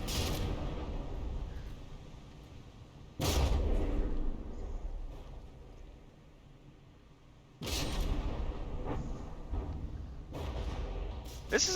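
In a battleship video game, several ships fire their guns at the Bismarck, and the shots land as two heavy booming blasts several seconds apart over a constant low rumble of battle noise.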